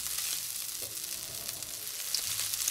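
A satay sauce thinned with dried shrimp liquid simmers in a pan, giving off a faint, even hiss of bubbling with small crackles. It is quiet and wordless.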